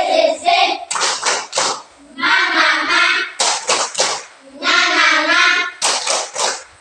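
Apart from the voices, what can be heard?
children clapping hands in a rhythmic clap chant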